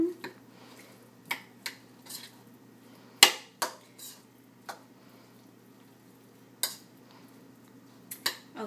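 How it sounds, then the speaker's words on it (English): A spoon scrapes and clinks against a bowl while mixing and mashing guacamole, with scattered sharp taps and soft squishing strokes, close and irregular, no talking. "We're just going to grab a spoon, mix it all together, mash it all up"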